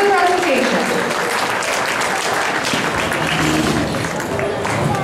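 Applause from a church gathering's audience rolls on steadily, a broad wash of clapping with a voice speaking over it near the start.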